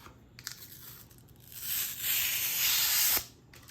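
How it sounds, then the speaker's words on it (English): Protective film peeled off the screen of a 7-inch double-DIN Android car stereo touch-screen head unit, a soft tearing hiss that swells and holds for about a second and a half before ending abruptly, close and quiet. "Let's peel this off."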